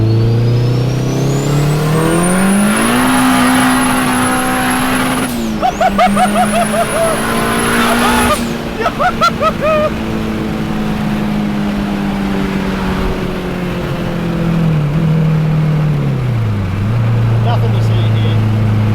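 A sleeper Honda Civic EK with a turbocharged K24 engine swap pulls hard through third gear, its engine note climbing loud and close with a high turbo whistle, two quick shifts and a long drone as it settles. Voices talk over it.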